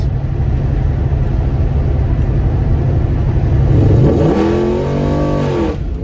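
A rebuilt Gen IV L99 LS3 V8 in a car rumbles loudly and steadily, then climbs in a sweeping rev as it accelerates through the gears, engine pitch rising and falling near the end with no talk.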